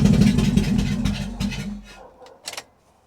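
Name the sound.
Mazda MX-5 Miata engine running with a misfire, no exhaust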